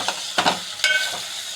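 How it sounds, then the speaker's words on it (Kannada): A spoon stirs amaranth (rajgira) greens palya with onion, tomato and green chilli paste in a pan, giving a few scraping strokes over a steady soft sizzle of frying. "ಈರುಳ್ಳಿ, ಟೊಮೆಟೊ ರಸದೊಳಗೇ ಈ ರೀತಿಯಾಗಿ ಫ್ರೈ ಮಾಡಿಬಿಡ್ಬೇಕು"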